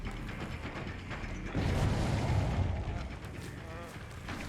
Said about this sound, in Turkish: Jeneratör patladı bu arada orada.